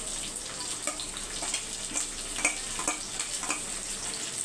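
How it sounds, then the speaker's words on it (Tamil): Curry leaves and onions hit hot oil in a pan, giving a steady, moderately quiet sizzle and crackle with small popping bursts throughout. "வறுத்தோடனே கருவேப்பிலையும் வெங்காயத்தையும் சேர்த்துக்கோங்க."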